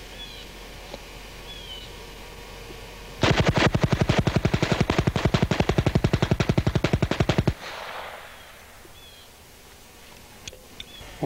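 A Calico M950 submachine gun fires one long, loud, rapid burst of about four seconds at close range, its shots evenly spaced, then the burst stops and only quiet outdoor ambience with faint bird chirps remains.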